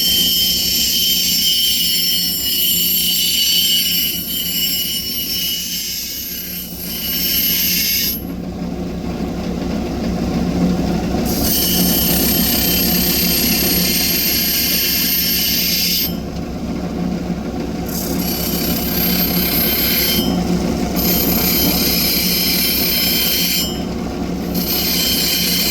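Lapidary grinding wheels bevel the edge of a fire agate stone, a steady loud whine and rumble running throughout with brief dips where the stone lifts off the wheel.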